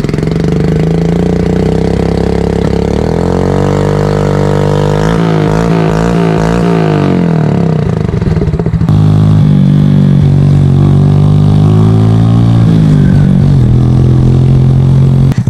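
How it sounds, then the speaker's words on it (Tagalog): A Suzuki Sniper 110 motorcycle engine with an open bored-out pipe idles loudly and steadily up close, with several rising and falling revs throughout. "The Suzuki Sniper 110, one and only in the Philippines."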